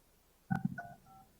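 Someone dials a telephone during a board meeting: a quick run of three or four DTMF keypad beeps, short and fairly faint, heard alone with no talk.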